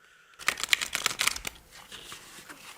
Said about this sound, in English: While I'm shuffling, I'm going to make a little announcement.